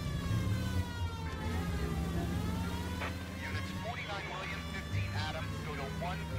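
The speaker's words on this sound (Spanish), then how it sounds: "ahora sí que hay que usar la sirena" A wailing police siren in the video game L.A. Noire rises and falls over a loud, steady engine rumble, with a voice talking briefly partway through.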